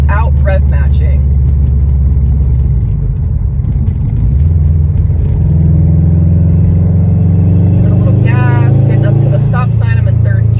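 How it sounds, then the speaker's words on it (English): A manual-transmission car engine drones loudly from inside the cabin, dipping and then rising in pitch as the driver downshifts into third gear without rev matching, with a voice talking over it throughout. "So I'm going to go ahead and downshift into 3rd gear without rev matching."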